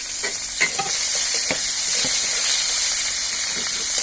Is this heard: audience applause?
no